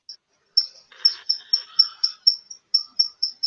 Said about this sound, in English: That cricket's getting louder